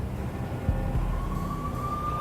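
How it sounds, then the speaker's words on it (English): Police sirens wail at a distance in the video game Max Payne, a faint steady rising tone over a low rumbling city background, with no voices. "The NYPD was closing in. I could hear the sirens. Their wail was a crescendo."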